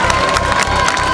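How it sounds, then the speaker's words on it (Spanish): Crowd cheering and applauding for pastors at a rally of a caravan bound for Cuba, a loud, dense wash of voices and claps with shouting peaks throughout. "Y un aplauso para los pastores y para todos nosotros"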